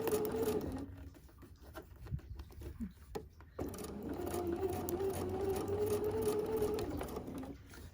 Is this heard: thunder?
no